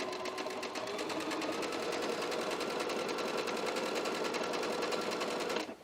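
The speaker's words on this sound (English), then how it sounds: "I'm right now just sewing just the ribbing or bottom band to the bottom of the lining" A sewing machine runs steadily and close for several seconds, stitching a ribbing bottom band onto a hoodie lining, with a fast even needle rhythm that stops abruptly at the end.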